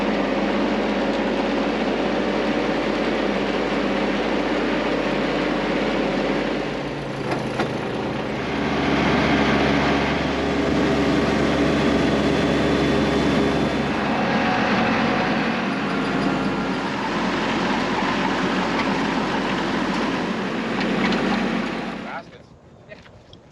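Farm tractor engine idling and running nearby, a steady low droning rumble that shifts in pitch partway through, with wind buffeting the microphone and brief talk over it.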